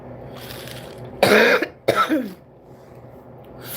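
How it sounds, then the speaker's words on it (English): A close, loud cough, followed by a second raspy cough with a throaty edge, then quiet room tone. "So you see me coughing."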